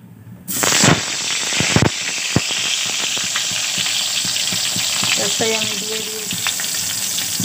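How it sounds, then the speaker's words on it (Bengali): Eggplant slices dropped into hot oil in a wok (kadai), a sudden loud burst of sizzling with sharp pops and spatters right away, settling into a steady close crackling fry with occasional clinks of a utensil. "এখন আমি বেগুনটা দিয়ে দেব ভাজার জন্য"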